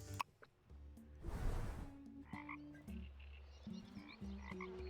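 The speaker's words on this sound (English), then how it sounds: "frog friend" Frog croaking in the swamp setting of the video game Tavern Keeper, a series of low, buzzy croaks interleaved with a breathy burst and soft tonal game sounds, clear and fairly quiet with no voices.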